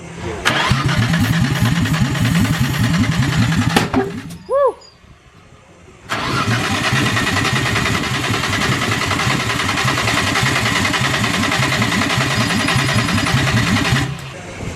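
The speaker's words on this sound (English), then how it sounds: "It backfired straight at me" A drift-built Nissan Skyline R33 engine cranks over loudly on its starter, then pops with a short backfire through the intake and falls briefly quiet before cranking resumes steadily and continues until near the end.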